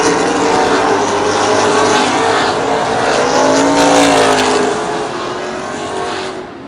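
CRA Late Model Sportsman race cars racing side by side at Plymouth Speedway during the 2010 Cabin Fever 200 make a continuous, loud, close engine roar that swells and fades slightly as the pack passes.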